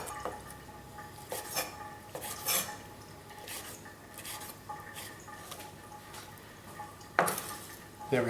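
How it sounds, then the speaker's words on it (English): Octopus pieces are tossed through salad in a bowl, with scattered clinks of utensils against the dish and soft scraping between them. "Now we're going to mix everything in with the salad, mix it all up"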